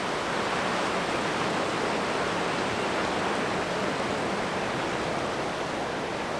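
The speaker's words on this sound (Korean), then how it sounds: "파도 소리 들으면서" Ocean waves wash in a constant, dense hiss of surf, loud and even throughout with no distinct breakers or voices.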